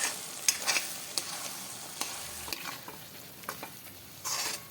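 Onion paste sautés in extra oil in a pan, giving a soft, steady sizzle punctuated by occasional scraping stirs of a spoon, close and fairly quiet.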